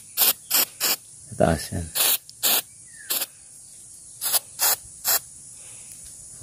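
Antiseptic spray is applied to a freshly dehorned sheep's horn wound in short, sharp hissing bursts, about a dozen in quick irregular succession. A person speaks briefly between the sprays.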